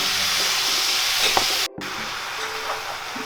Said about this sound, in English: Put all the minced meat in there.